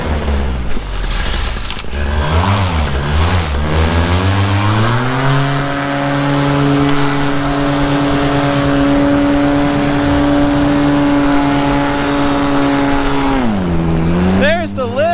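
A paramotor engine runs at a sustained, loud, steady pitch during takeoff, climbing after a few early revs and dropping off near the end, with talk faintly under the drone.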